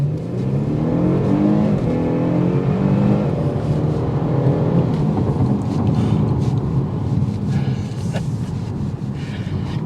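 A 2023 Genesis G70 3.3T launching hard from a standstill in first gear, its engine roaring and rising in pitch continuously up close, with some wind noise over the microphone.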